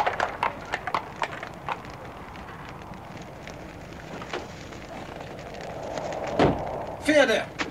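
Hooves clip-clop outdoors in scattered, irregular steps, with a louder knock and a rustling burst near the end over steady background noise.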